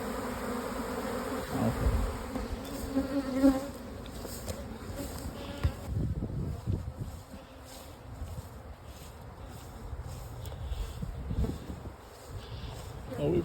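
Honeybees buzzing around a nuc box outdoors, a soft continuous hum with rustling and handling noises, someone speaking briefly over it.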